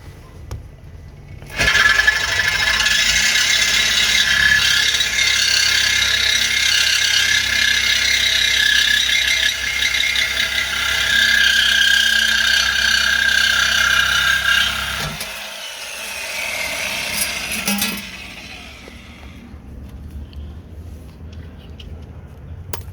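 Truck exhaust hangers, including the rubber mounts, being cut: a harsh, steady, close cutting noise runs for about thirteen seconds, then gives way to quieter scraping and clanks before fading.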